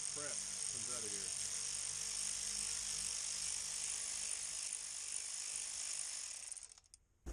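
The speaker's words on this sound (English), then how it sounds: "until the ratchet stops" Ratchet wrench working on a 4R100 transmission part: a close, continuous mechanical rattle of dense clicking that holds for about six seconds and then stops, with a brief voice at the start.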